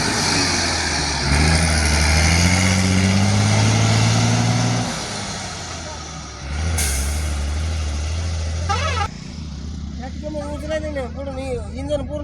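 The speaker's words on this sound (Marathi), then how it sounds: "इथं गाडी आता उभा टाकली आणि निघाली पण कारखान्याकडे" A heavy loaded truck's engine rumbles loudly on a main highway, revs and shifts, with a sharp hiss of air brakes, then fades as it pulls away toward a factory; people talk nearby.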